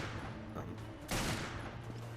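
Gunfire while shooting enemies in the video game Resident Evil Revelations, Trench Raid mode: a dense, loud burst of shots in the middle over a steady game soundtrack, with no talk.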